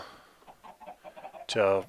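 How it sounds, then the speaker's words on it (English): Chickens on a video game egg and chicken farm cluck in a short burst at the end, after a stretch of quiet murmuring speech. "as you hear, the chickens over here, I have this egg slash chicken farm kind of set up"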